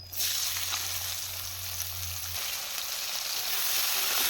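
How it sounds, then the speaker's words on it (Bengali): Chopped onions with black cumin seeds frying in hot oil for rui fish mustard paturi, a steady dense sizzle close by with no talking. "পেঁয়াজটাকে কিছুক্ষণের জন্য লাল লাল করে ভেজে নেব"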